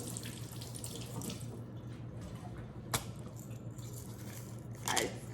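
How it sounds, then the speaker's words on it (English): Water running from a kitchen tap as hands are rinsed under it, a soft continuous splashing stream with a couple of brief louder splashes, fairly quiet and close. "I'm just rinsing my hands before I touched my salt and pepper again"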